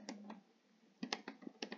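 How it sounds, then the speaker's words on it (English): Computer keyboard typing, very faint and close: a couple of soft clicks, a pause, then a quicker run of light keystrokes. "Typing."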